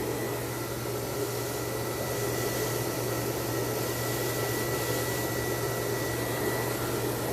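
A hair dryer heating a round brush during a blow-dry blows with a steady, even whoosh and a faint hum throughout, close by and uninterrupted, with no voices.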